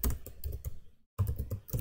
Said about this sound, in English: let me type the same thing here